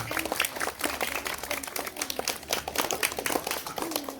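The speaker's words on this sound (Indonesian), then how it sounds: "Tepuk tangan buat kita, buat teman kita, dan buat kita semua" A gathering at an elementary school in Kancanasari breaks into sustained hand clapping, dense and crackling and fairly close, with voices faintly beneath.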